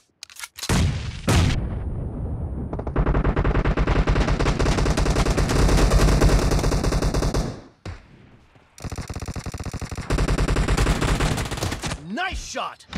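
Sustained rapid machine-gun fire in a team deathmatch video game, loud and close, running for several seconds, breaking off briefly, then resuming in another long burst.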